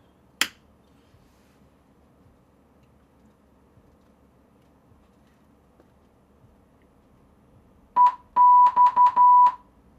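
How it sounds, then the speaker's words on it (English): An aircraft radio panel plays an ADF radio beacon's Morse code identifier, a short burst of steady beeping tones near the end after a single sharp click and quiet hiss. "Over here is the sound for the ADF."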